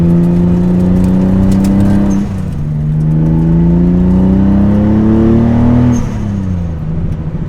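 A Mazda RX7 fitted with a twin-turbo VG30DETT engine revs loudly and close by. Its droning pitch climbs and falls twice, with a fluttering compressor surge as the throttle lifts.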